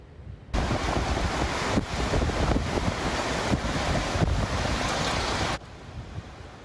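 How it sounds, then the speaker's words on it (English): Strong coastal winds buffet the microphone with dense, roaring noise along the Southern California shore during a winter storm, heavy surf rumbling underneath; the loud blast runs steadily for about five seconds, then drops away abruptly. "you could see those winds really just whipping up, strong winds"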